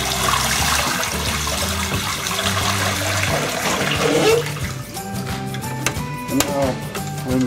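Water from a dehumidifier bucket is poured out in a steady, loud gush that splashes on for several seconds before it thins into trickles and drips.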